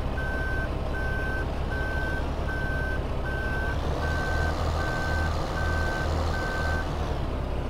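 In Farming Simulator 15, a truck's reversing alarm sounds a loud, evenly spaced series of repeated beeps over a low engine rumble, with no talk.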